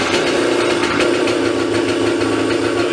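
KTM 650 SX motorcycle fitted with a 38mm carburetor, engine running steadily at a rough, loud idle with a throbbing, knocking low rumble throughout, close by.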